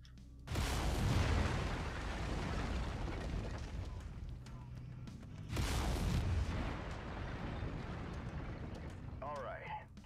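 Heavy laser weapons firing from a mech in the game MechWarrior 5: Mercenaries, two loud sustained roaring bursts of several seconds each with a buzzing tail, no talk over them.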